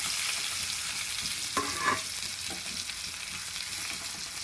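Tomatoes fry in a pan for a peanut chutney, giving a steady close sizzle with a few brief stirring scrapes and no voices.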